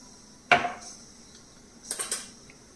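A spoon knocks against a pan while hing and sprouted chana are stirred in, one sharp metallic clack followed by a few lighter scraping taps, fairly close in a quiet kitchen.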